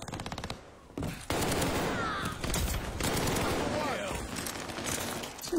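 Rapid submachine-gun bursts crackle through a military shooter match, loud and dense across most of the stretch with several separate volleys, under steady in-game battle noise.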